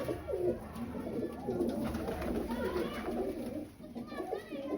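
Low, soft cooing from pigeons repeats continuously at a moderate distance, forming a gentle murmuring backdrop.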